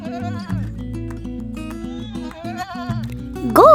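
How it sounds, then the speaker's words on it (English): A goat gives a short, wavering bleat near the end, loud and close, after a stretch of light backing music. "Goat."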